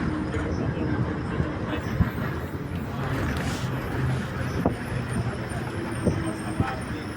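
A bus speeding along a road on the way to Digha, its steady engine drone and road rumble continuous throughout, with a few faint clicks and bumps.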